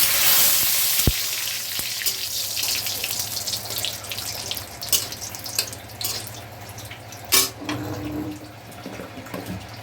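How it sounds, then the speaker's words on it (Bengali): Dried red chillies and bay leaf sizzle in hot mustard oil for a tempering, a steady close frying hiss with bright crackles and a few sharp pops. "শুকনো লঙ্কা দিচ্ছি ফোড়নে তেজপাতা দিচ্ছি"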